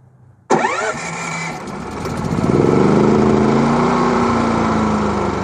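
A DuroMax XP9000iH dual fuel inverter generator running on gasoline fires up with a sudden pull-start burst, then settles and rises into a steady, loud, close engine drone.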